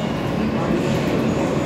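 New York City subway train at a station, a loud, steady rumbling roar that fills the whole moment without breaks.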